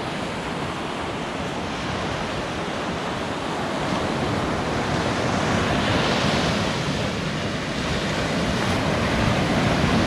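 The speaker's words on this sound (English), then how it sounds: "Just that sound of the ocean" Ocean waves rolling onto the beach at Myrtle Beach, a continuous loud wash of surf with gentle swells and some wind rush, no voices.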